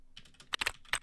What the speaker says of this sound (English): You can stop typing now.